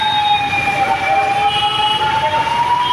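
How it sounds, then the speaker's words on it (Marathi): Ambulance siren wailing steadily in slow-moving Thane traffic, a loud continuous tone held close by amid the rumble of idling road vehicles. "ही ॲम्ब्युलन्स आहे"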